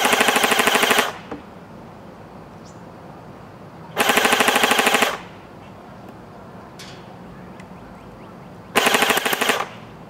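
A Cyma CM028 RPK airsoft gun fires BBs at a target in three rapid full-auto bursts, each about a second long, with quiet pauses between them and faint impacts in the gaps.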